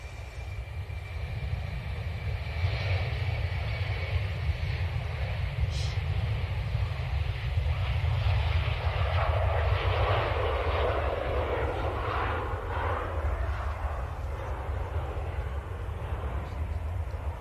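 Icelandair airliner departing Manchester Airport for Reykjavik, a steady broadband engine roar that builds and holds throughout, moderately loud and distant, with a faint voice now and then underneath.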